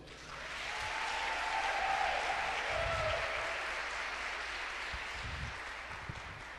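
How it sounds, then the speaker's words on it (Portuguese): An audience applauds inside a church during a sermon, a sustained wash of many hands clapping at moderate distance, swelling early and holding steady before tapering slightly. "Pode aplaudir."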